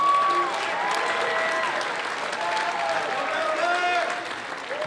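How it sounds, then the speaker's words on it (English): High school spring concert audience applauding the assistant band director, a steady wash of clapping and cheers with voices calling out above it throughout. "Let's give her a huge round of applause"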